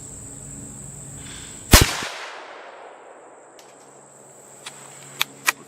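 A single loud, sharp 7mm-08 rifle shot fired at a 100-yard target outdoors, with a decaying echo and crickets or insects chirping steadily in the background, followed by a few faint clicks.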